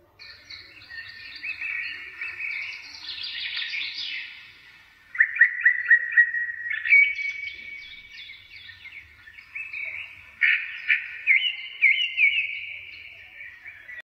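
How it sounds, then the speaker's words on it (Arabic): Sparrows chirp and trill in bright, rapid bursts, several phrases repeating with short pauses between, clear against a quiet background. "نسمع صوت العصفور"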